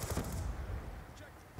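Gunfire from the video game Black Ops 2, a brief dense burst of rapid shots at the start fading into a rumbling wash, moderately loud.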